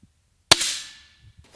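A single sharp air rifle shot cracks out at an indoor shooting range in Vinnytsia, followed by a brief metallic ringing decay, then quiet with faint small clicks.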